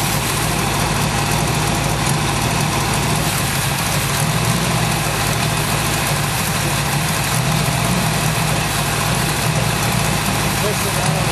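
A Ford 331 stroker engine with a bad carburetor, started after sitting five years, runs steadily at idle with a dense, constant rumble and mechanical clatter, loud and close, with voices faintly mixed in.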